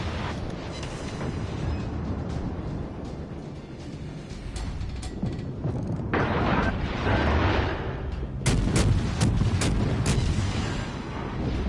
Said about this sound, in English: over there we can see there's a Wyoming. That's a battleship. It can do terrible things to me.